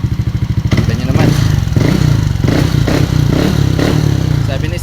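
A Yamaha Aerox V1 scooter with a misfiring engine that stalls and has no idle, its engine running loud and close with a rapid putter that turns into a rough, uneven clatter.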